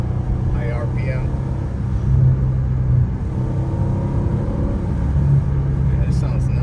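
A Mercedes CLS63 fitted with a GCA performance valved exhaust pulls hard in second gear at high RPM, a loud, steady, deep exhaust drone that swells briefly as the revs climb.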